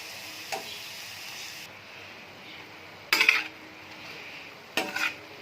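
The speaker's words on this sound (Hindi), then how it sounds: "तो अच्छी तरह से डाल देते हैं मिक्स।" Minced beef keema is stirred on a tawa, heard as a soft sizzle under a few sharp metallic scrapes and clatters of the spoon against the pan, with quiet gaps between them and no one speaking.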